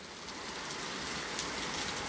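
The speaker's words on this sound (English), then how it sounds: "it's a rainy day, y'all" Rain falling outside a house on a wet day makes a steady, even hiss throughout, with no voices.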